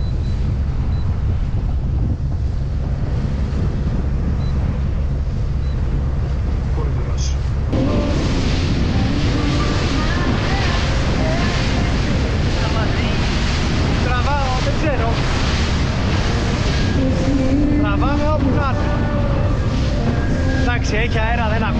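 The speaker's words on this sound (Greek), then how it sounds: "Έχει αέρα, δεν ακούγεται σίγουρα, αλλά ο αέρας είναι ο αέρας ταξιδίου." Strong travel wind buffets the microphone aboard a Compass 165CC motorboat running at about 21 knots toward Koundouros on Kea, a loud continuous roar mixed with rushing water and engine, and a voice talking over it.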